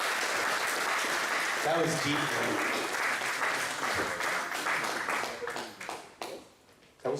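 Conference attendees at a technical summit in Valencia applaud a presenter with full, steady clapping that thins out toward the end, while a voice speaks briefly over it and a few scattered claps remain at the finish.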